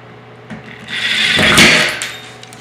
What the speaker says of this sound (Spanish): usando el taladro.